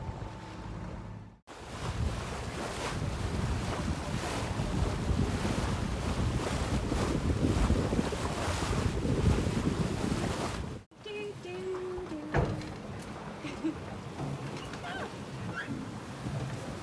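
A sailboat under way on the Solent, off England's south coast, on a sunny day. Loud, steady wind buffets the microphone over rushing waves and water against the hull, eases briefly, then continues a little more softly.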